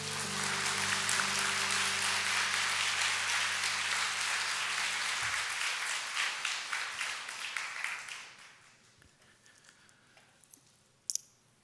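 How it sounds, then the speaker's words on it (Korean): A church congregation at Sunday worship gives warm, sustained applause to welcome a professor, a thick wash of clapping that thins out and fades away toward the end, leaving near-quiet with one sharp knock. "뜨거운 박수로 모시겠습니다"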